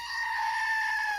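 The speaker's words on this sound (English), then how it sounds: "Goat." A goat bleats once in a drawn-out, nasal cry lasting just over a second, close and clear with no other sounds around it.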